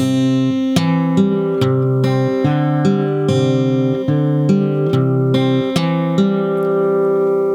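Fingerstyle acoustic guitar plays a passage from a song, with steady plucked notes ringing over held bass tones, close and clear and unaccompanied.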